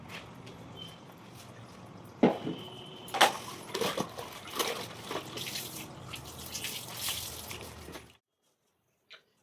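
Tap water runs steadily into a sink while things are washed, with scattered splashes and clatter over about eight seconds before stopping abruptly.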